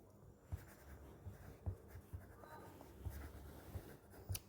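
Marker or chalk writing on a board during a biology lesson, heard as a series of faint scratchy taps and strokes at irregular intervals, close by, in a quiet room with no talking.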